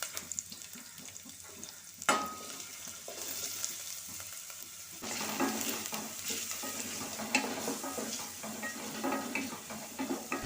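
A large, finely chopped onion fries in a little coconut oil, making a soft, quiet sizzle with gentle stirring, a sharp utensil clink early on, and busier frying toward the end.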